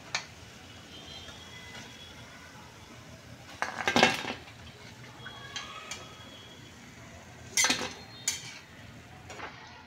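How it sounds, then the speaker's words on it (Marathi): Fried fritters lifted from the pan into a dish, with a faint sizzle under scattered clinks and scrapes of a metal utensil against cookware, two louder bursts of clatter standing out. "आता मी ही एका डिश मध्ये काढून घेते।"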